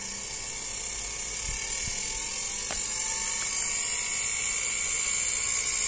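A spindle motor driven by a low-price, low-EMI spindle speed controller runs with a continuous high-pitched electric whine and hum that rises slightly in level as it spins up, with no talking.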